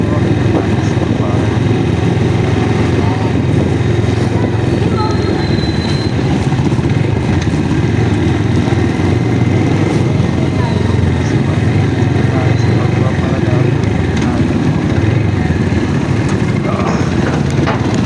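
A Motorstar Cafe 150 motorcycle engine runs steadily and loudly up close for the whole stretch, a continuous low rumble with road and wind noise mixed in, ridden out in light rain.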